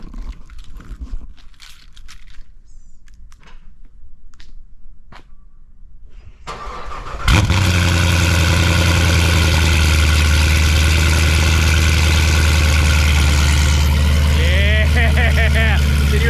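Car engine cold start: quiet background with faint voices, then the starter cranks and the engine catches loudly, settling into a steady, high-revving idle close by.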